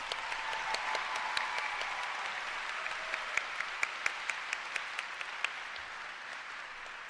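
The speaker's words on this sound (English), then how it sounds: "let's give them another round of applause" Audience applause for a graduation choir at an 8th grade graduation ceremony, a steady wash of clapping across the whole stretch with a few sharper individual claps standing out near the end.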